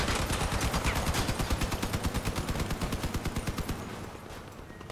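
Rapid automatic gunfire from a vehicle's mounted guns in the combat game Crossout, a fast steady rattle of shots that fills the whole stretch and thins slightly toward the end, with no talk over it.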